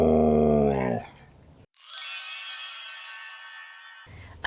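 A dog growls while playing with a watermelon toy, a low sustained rumbling growl up close, followed by a short pause and a higher drawn-out whine before it ends.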